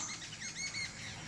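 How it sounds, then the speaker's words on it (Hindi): Birds chirp in a spring forest, with several quick, high, faint tweets overlapping over a soft outdoor background. "चिड़ियों का आना शुरू हो गया।"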